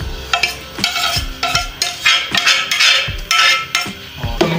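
Chicken with masala is stirred in a pot while haleem is being prepared, a spoon scraping and clanking against the metal in quick, uneven strokes, loud and close, with a light sizzle underneath.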